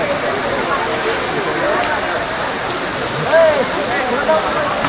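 Steady wash of heavy rain hissing on surfaces in Kolhapur, broad and continuous, with faint murmuring voices and a brief louder patch near the end.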